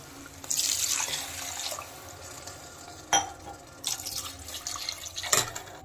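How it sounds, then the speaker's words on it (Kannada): Water poured into a cooking pot for egg biryani, a steady splashing pour with a few sharper splashes and clinks, close and moderately loud, with no talking. "ಈಗ ನೆಕ್ಸ್ಟ್ ಇದು ನೀರು ಹಾಕ್ಬೇಕಮ್ಮ ವಾಟರ್"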